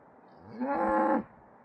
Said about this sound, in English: It seems to be calling for help from some of its cow friends.